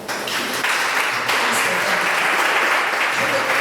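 A church congregation applauding during a worship service, dense steady clapping from many hands that starts abruptly and carries on loudly without letup.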